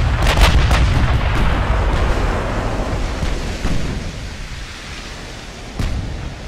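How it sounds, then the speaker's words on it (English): Incoming naval shells whizz in during a battlecruiser engagement in Ultimate Admiral: Dreadnoughts, loud booming impacts and rumbling blasts, with sharp hits near the start, middle and a final crack toward the end. "we'll get to hear all these shells coming whizzing in"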